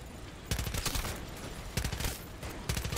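Loud, dense automatic gunfire bursts in Call of Duty Zombies, three rapid volleys separated by brief gaps, close and alone with no talk.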